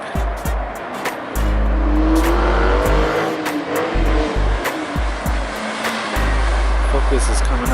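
A Mazda Miata race car drives hard on a track, its engine roaring loudly with revving and gear changes as other cars pass close by, while people talk over it.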